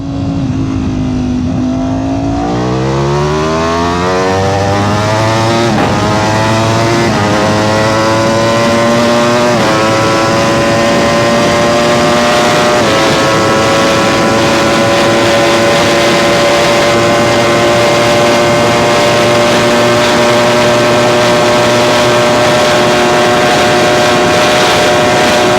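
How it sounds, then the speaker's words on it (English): A 2026 Ducati V4R superbike accelerates hard through successive gears during GPS top-speed testing, loud and continuous, its rising engine whine climbing and briefly dropping at each upshift before settling into a sustained high-speed howl. "Now let's get this bike out really quick and see what we can do for a 60 through 130, 100 through 150"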